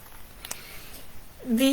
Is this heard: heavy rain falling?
no